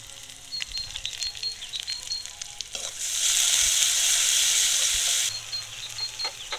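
Golden fried onions sizzle steadily in a pan, then ginger-garlic and green chili paste goes in and a loud, hissing burst of frying swells for a couple of seconds before settling back to the gentler sizzle, close up and without speech.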